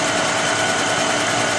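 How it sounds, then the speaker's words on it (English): A GEM GSBM20 manual edging machine runs its grinding wheel at high speed with suction on, making a loud, continuous, even whine with a faint hum, close up and unbroken. "I'm going to turn my grinding wheel to high speed for grinding"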